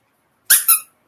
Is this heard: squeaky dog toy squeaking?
yes